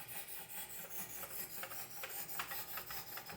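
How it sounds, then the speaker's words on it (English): A knife edge scrubbed back and forth on an 800 grit stone of a Wicked Edge sharpener, a close, continuous rasping rub with quick repeated strokes. "And scrub just for a minute to see what the scrubbing does."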